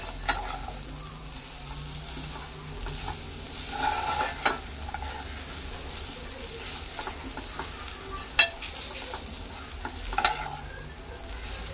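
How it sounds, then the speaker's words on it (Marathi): Grated coconut is stirred and sautéed in a little ghee in a pan, giving a soft, steady sizzle broken by occasional scraping clicks of the spoon against the pan. "जस्ट थोडेसे तुपामध्ये परतून घ्यायचे"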